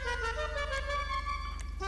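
A looping car horn fitted to an LCC Sanctus motorcycle in GTA V, a loud, continuous tonal honk with a rapid pulsing warble sustained throughout, close and alone.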